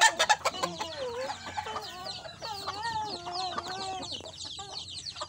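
Chickens at a coop cluck and chatter close by, with brief rooster-like calls and a busy overlapping flock of short squawks and clucks.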